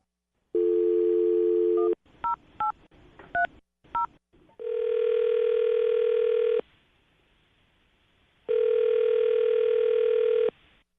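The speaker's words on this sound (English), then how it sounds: "I'm going to dial her phone number." A steady dial tone, then a quick series of touch-tone keypad beeps, followed by two long electronic ringing tones separated by a pause.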